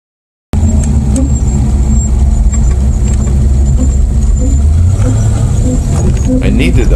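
Loud, close engine roaring as an LS V8-powered Porsche 914 launches and accelerates hard down a drag strip, the pitch climbing steadily toward the end.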